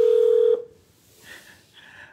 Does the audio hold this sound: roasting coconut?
no